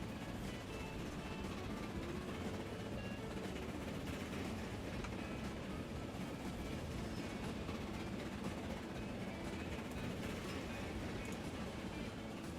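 A small train running in the Transport Fever game on a mountain map, a faint, steady rolling rumble that continues unchanged throughout.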